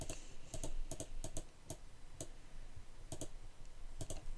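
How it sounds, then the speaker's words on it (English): Rapid computer clicks and key taps while working in welding simulation software, sharp and close, arriving in irregular pairs and clusters with short gaps, no voices. "we click somewhere on the screen"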